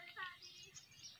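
Faint high bird chirps, a few quick tweets in a short burst heard at a distance outdoors near water during fishing, soft and thin over low background noise.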